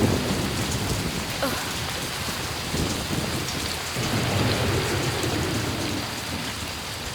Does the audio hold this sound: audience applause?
no